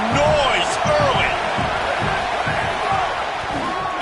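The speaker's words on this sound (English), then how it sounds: "This crowd bringing the energy and noise early" A football stadium crowd at a Michigan game roars and shouts in a dense, continuous wall of noise, with rhythmic chanting pulses and voices rising over it.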